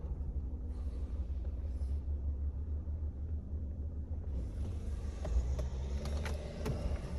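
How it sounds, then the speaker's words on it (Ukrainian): A 2001 Audi A2 with a manual gearbox idles steadily, its engine a low, even rumble with faint mechanical ticking, heard quietly from nearby with no talking. "Автівка заведена"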